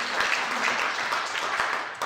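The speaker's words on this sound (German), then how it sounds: "Applaus" Audience applause at a public information meeting, a brief, even wash of many hands clapping at moderate level from a room full of people.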